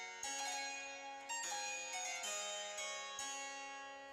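A harpsichord plays a bright, plucked passage with crisp repeated notes and chords, fairly quiet but clear throughout.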